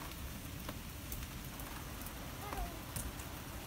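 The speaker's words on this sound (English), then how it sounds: "Oh, rain's slowing down." Heavy rain falls in Lake Elsinore, a steady dense patter on surfaces close by, fairly quiet and even throughout, with a few brief louder knocks.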